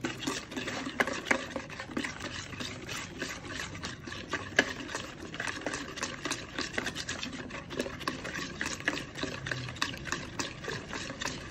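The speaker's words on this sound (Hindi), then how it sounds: "अब जितने मसाले थे तमाम मसाले हम इकट्ठे ही शामिल कर देते हैं और अच्छे से बीट करके एक बेहतरीन सा बैटर तैयार कर लेते हैं।" Spice and lemon juice batter for chicken roast being beaten in a bowl, a steady run of quick, soft wet clicks and stirring scrapes at close range, continuous throughout with no talking.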